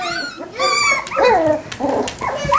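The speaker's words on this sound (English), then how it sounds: "Here are Miley's Australian Labradoodle puppies at almost 5 weeks." Young Australian Labradoodle puppies around four to five weeks old whimper, yip and whine up close in overlapping high-pitched bursts, with no talking.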